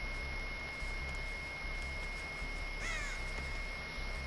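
A crow caws in the video game Dead by Daylight, one short raspy call rising over a steady hum of ambient game noise.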